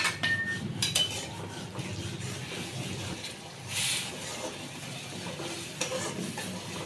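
Beef is stir-fried in a pot with turmeric, meat masala, ginger, garlic, salt, oil and onion, a soft continuous sizzle under repeated scraping and clinks of a metal spoon against the pot, with a brief louder scrape midway.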